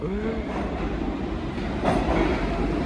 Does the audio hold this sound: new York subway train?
yes